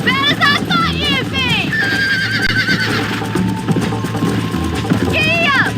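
Horses racing in the video game Red Dead Redemption, with repeated whinnies and neighs over a steady drumming of hooves, while riders shout and talk throughout.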